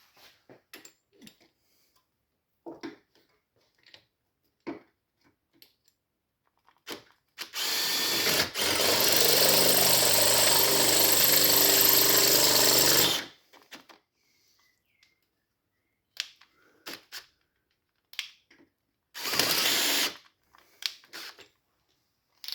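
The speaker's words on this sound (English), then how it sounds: "I'm going to have to drill out that thread we put in earlier to allow the longer bolt to go through" Power drill boring out a previously cut thread in a thin steel bracket for a Volvo V50 1.6D power steering pipe clamp: one steady, loud whirring run of about five seconds, then a short burst later, between scattered clicks and handling noises.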